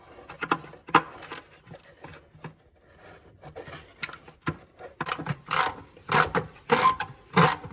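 Ratchet wrench working a rusty nut loose on a 2013 Dodge Journey 3.6L engine: rapid clicking pawl bursts in irregular runs, close and crisp, growing denser toward the end.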